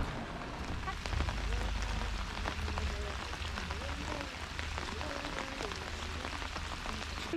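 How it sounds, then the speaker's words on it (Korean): Steady rain falls on a chilly summer day outside an art museum in Namwon, a constant even patter on surfaces that fills the scene at moderate volume without pause. "춥고 비가 와."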